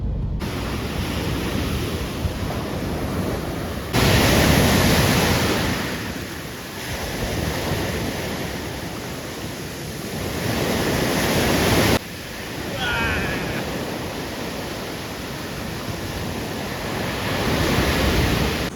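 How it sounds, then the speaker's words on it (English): Strong ocean waves breaking on a beach in South Thailand, a loud, roaring wash of surf that swells and recedes in several surges, with wind buffeting the microphone. "they were strong, them waves"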